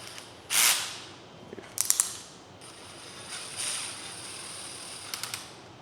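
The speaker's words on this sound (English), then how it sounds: "So we're going to go ahead and screw this down and watch carefully." Back plate of a billet oil pump being screwed down, heard as a few short ratcheting bursts and clicks spaced apart over a quiet background with faint whirring; no talk.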